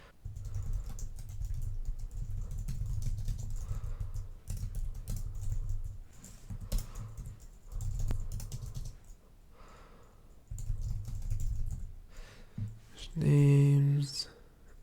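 Bursts of typing on a computer keyboard while writing Swift code come and go, quick key clatter in clusters separated by short pauses, fairly close.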